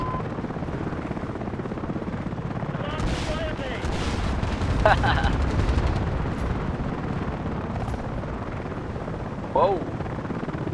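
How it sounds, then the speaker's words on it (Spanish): AH-64 Apache attack helicopter in the video game Battlefield Play4Free thrums as a steady rotor drone through the whole stretch, mixed with bursts of gunfire and explosions, while a player talks over it. "ahora puedo atacar al helicóptero"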